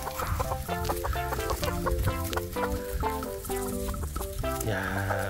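Araucana chickens in a coop by a snake-strawberry patch cluck busily, with overlapping, rhythmic clucks and calls that continue without pause.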